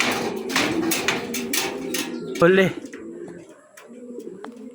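Racing pigeons cooing in soft, repeated low calls close by during a training session, while someone talks over them.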